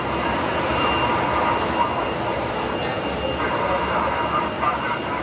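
Shuttle carrier aircraft, a jet airliner carrying Space Shuttle Endeavour, landing at Ellington Field in Houston, its engines giving a steady, loud broadband roar that holds throughout with no other sounds.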